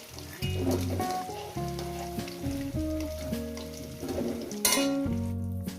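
Potatoes fry in a pan for a chicken kosha preparation, a steady close sizzle with occasional stirring clatter, heard beneath prominent melodic background music.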